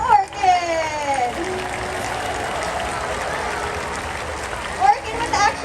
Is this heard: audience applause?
yes